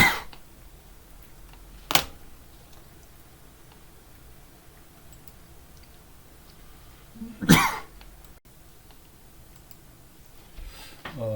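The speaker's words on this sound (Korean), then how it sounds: "제가 잠깐 기침이 딱 나서 물을 조금 마셨습니다." A lecturer in an electronic circuits class gives two sharp, isolated coughs several seconds apart in an otherwise quiet room, with faint clicks near the end.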